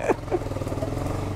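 Small mini bike engine with a Yamaha RX100-like two-stroke note, a quiet, steady putter close by, with a couple of brief sharp blips near the start and no speech.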